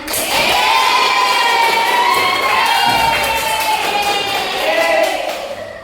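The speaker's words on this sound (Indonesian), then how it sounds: "Tepuk tangan untuk kita semuanya." A school class breaks into loud cheering and shouting with scattered applause in a classroom, a sustained crowd roar of children's voices lasting several seconds, close and bright.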